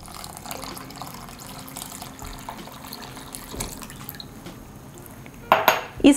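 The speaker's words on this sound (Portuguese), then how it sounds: "a gente vem, coloca 300 ml de leite" Milk is poured into a creamy homemade bread dough mixture, a brief liquid splash and gurgle that comes near the end after a quiet kitchen background.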